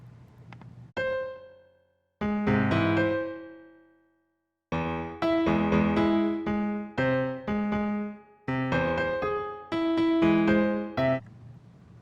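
Computer-generated MIDI note sequences play in separate clusters of tones, each ringing briefly then stopping, with short silences between groups.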